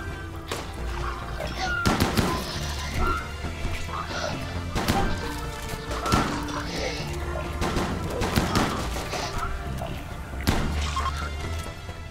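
Gunshots in the video game Rimworld, sharp cracking bursts scattered irregularly over a busy game soundscape, some louder than others, with talk over the top.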